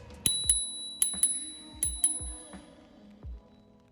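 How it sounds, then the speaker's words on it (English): Bell on a Leqismart A8 electric scooter, rung in quick pairs of bright metallic dings, three doubles and then single rings, clear and close with no talking. "And this is how the bell sounds."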